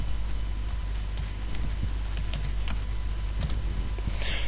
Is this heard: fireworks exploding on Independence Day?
no